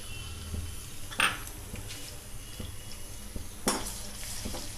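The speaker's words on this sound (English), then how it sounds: "mix all of them and fry the onions till they're transparent" Chopped onions with ginger garlic paste fry steadily in a pan for a sorrel and mutton curry, a low continuous sizzle broken by a couple of sharp scraping stirs of a spoon against metal.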